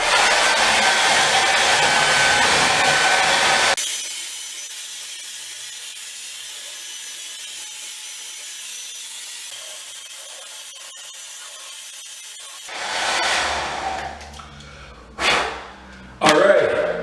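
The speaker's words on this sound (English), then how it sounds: "Don't let your hair dryer touch the plastic." A hair dryer heats plastic window-sealing film in a window sealing kit job, running steadily and loud for several seconds, then dropping to a quieter hum before cutting out, followed by short bursts near the end.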